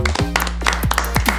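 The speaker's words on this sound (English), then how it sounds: "I'll clap to make it seem like more people here" A lone person claps by hand at the close of a tabletop role-playing game session, a few quick close claps mixed with voices.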